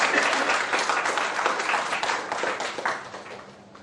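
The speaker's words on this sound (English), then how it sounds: "It's such an important program to applaud him, for the program." A seated audience applauds at a memorandum-of-understanding ceremony between the University of Florida and National College, India, with dense clapping from many hands that starts strong and gradually fades toward the end.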